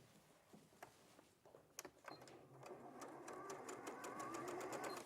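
A sewing machine stitches diagonally across bias binding. A few soft handling knocks come first, then the motor hums and the needle taps in a fast, even rhythm, close but fairly quiet.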